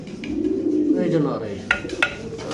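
Black Lahori pigeons coo in low, rolling calls up close at a pigeon farm, followed by a couple of sharp clinks near the end.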